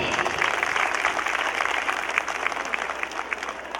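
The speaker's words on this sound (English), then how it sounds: "give a big round of applause to him" A large crowd at a school annual function applauds the guest of honor, a city police superintendent, with dense continuous clapping that holds at an even level throughout.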